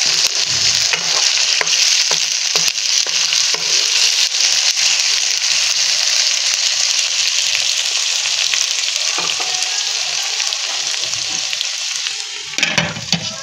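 Chickpea masala sizzling loudly in hot oil in a pan while being stirred, a steady bright frying hiss broken by scraping stir strokes, close and without talk.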